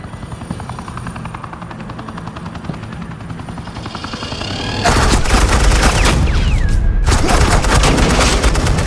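Loud, dense bursts of gunfire from Batman: The Telltale Series erupt as suppressing fire over a steady helicopter drone, nearly continuous with a brief gap.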